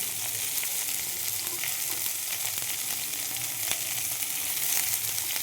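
Onions frying in oil in a pan, a steady close sizzle with dense crackling pops and occasional stirring clicks, alone without talk.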